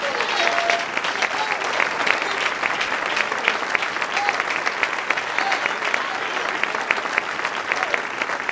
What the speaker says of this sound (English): Somebody clap hands in here and praise the Lord.